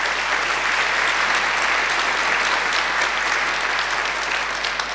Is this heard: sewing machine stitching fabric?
no